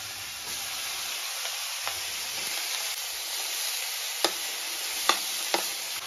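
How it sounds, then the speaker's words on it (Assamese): Greens fry in a pan with a constant bright hiss and sizzle, broken by a few sharp spoon taps and stirring clicks against the pan, close and steady with no talking. "আৰু ভাজি বনাইছোঁ চিম্পলকৈ"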